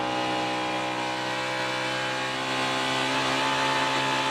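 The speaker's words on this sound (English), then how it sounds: "I want you to listen how much they're in the throttle" NASCAR Sprint Cup stock car engines held at full throttle at Texas, a steady, loud, high-pitched engine drone that swells slightly toward the end, with no talking.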